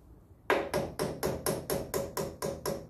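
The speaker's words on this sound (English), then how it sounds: "Just gently tapping that one in" Metal tapping on a Land Rover Series during swivel ball and brake work: about ten evenly spaced, sharp hammer taps at a steady rhythm, close and fairly loud, with no talk.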